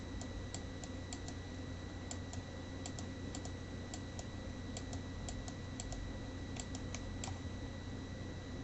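Keystrokes on a computer keyboard as a command is typed into a Python shell: light, irregular clicks in steady clusters over a constant low background hum, with no one speaking.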